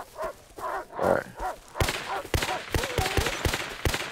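Gunfire in the survival video game Rust comes as sharp, loud shots in quick, irregular bursts. The shots follow a stretch of low grunting sounds.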